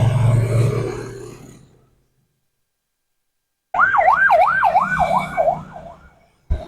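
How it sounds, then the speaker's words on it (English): An ambulance siren wails past along a highway, rising and falling in a rapid, wavering yelp, loud and close after a brief stretch of rumbling traffic noise and a moment of silence. "there was an ambulance going by"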